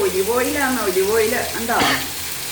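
Fish deep frying in olive oil gives a steady, close sizzle that runs beneath a voice speaking through most of the moment.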